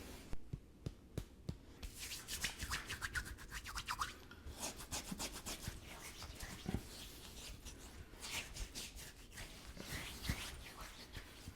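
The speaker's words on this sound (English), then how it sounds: "Applying the lather with a brush is definitely going to help out." A shaving brush works shave soap into a lather during wet shaving, making soft, close, repeated swishing and scrubbing strokes in quiet irregular bursts.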